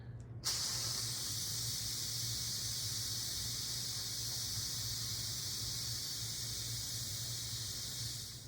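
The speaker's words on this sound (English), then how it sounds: "Release the rest of the pressure." Steam hisses out of a pressure cooker's release valve after cooking baked beans, starting abruptly and holding a loud, steady, broadband rush for about eight seconds.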